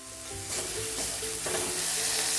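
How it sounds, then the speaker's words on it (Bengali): Dry ground spices fry with a splash of water added, giving a continuous close sizzle with a louder hiss as the water hits and stirring under it, no voices. "একটু জল আমি অ্যাড করে দিলাম, মশলাটা ভালোভাবে কষিয়ে নেবো"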